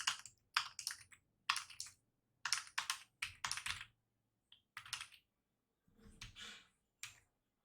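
Computer keyboard typing while entering data in an Excel spreadsheet: bursts of quick, close key clicks separated by short pauses, with no talking.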